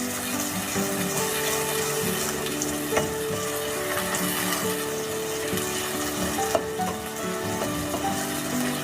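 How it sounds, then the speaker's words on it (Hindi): Garlic ginger paste frying with onions in a pot for mutton karahi, a steady close sizzle with occasional stirring scrapes and a couple of sharp clinks, no talking. "अब इसमें लहसुन अदरक का पेस्ट डाल दूंगी। प्याज के साथ इसको फ्राई कर लेंगे 2 से 3 मिनट तक।"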